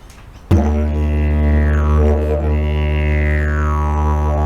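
A deep, continuous droning tone with a slowly swelling and shifting timbre imitates a big red kangaroo hopping along, starting abruptly after a brief quiet moment and holding loud and close to the end.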